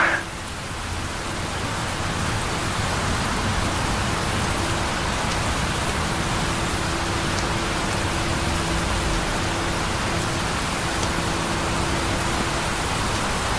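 Steady rain falling outdoors, a dense continuous hiss that stays even throughout with no voices over it.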